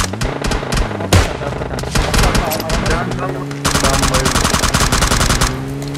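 Rapid bursts of automatic M416 gunfire in PUBG Mobile, loud and continuous, with sharp repeated shots in quick succession and little pause between volleys.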